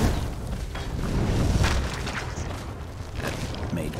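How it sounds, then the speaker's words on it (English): A fire rune spell detonates in Skyrim, giving a loud, broad boom that swells and rolls on for several seconds with no voices over it. "we're going back to fire rune"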